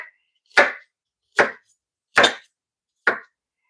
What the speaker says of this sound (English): Probably going to use maybe half of this onion. So I'll just cut it.